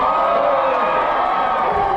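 A crowd cheering and shouting at an Alaska lumberjack show, a loud, dense wash of voices held steady throughout with no pauses.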